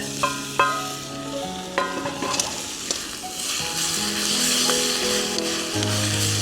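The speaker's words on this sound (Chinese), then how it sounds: "快速翻炒。" Beef and bitter melon are tossed quickly in a hot wok, a loud continuous sizzle with scraping stir strokes, while a steady tonal hum runs underneath.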